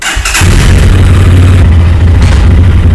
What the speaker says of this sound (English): So let's start the bike.